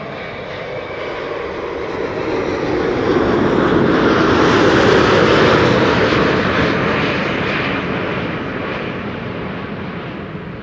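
Airbus A330 touching down at Amsterdam Schiphol with thrust reverser use, a loud, broad jet roar that swells to a peak around the middle as the reversers spool up, then gradually eases off, with no voices.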